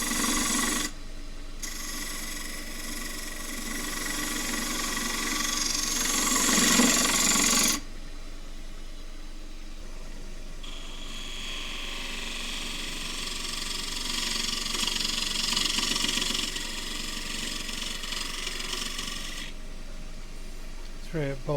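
A wood lathe cuts a rectangular Tasmanian sassafras bowl with a rough, ridgy cut. A loud, raspy tool noise runs across the wood, breaks off briefly, then starts again.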